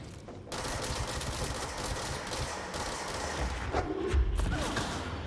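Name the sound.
gunfire from a gun in the video game Control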